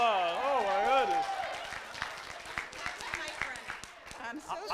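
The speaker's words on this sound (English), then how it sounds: "give them a round of applause" An audience applauds a team at a Speak4MC presentation event, with a burst of scattered clapping. A voice speaks at the start, and the claps then carry on at moderate loudness.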